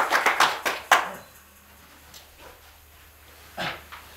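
An audience at a saxophone workshop gives a brief round of applause: several loud, close claps in quick succession that stop abruptly, followed by quiet and one more short clap near the end.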